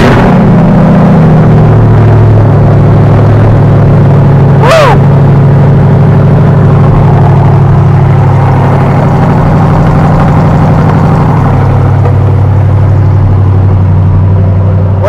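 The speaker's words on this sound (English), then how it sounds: "ready to hear an awesome exhaust?" A Corvette C7 Z06 with a Borla exhaust idles loud and deep up close, with one sharp rev rising and falling partway through before settling back to a rumbling idle.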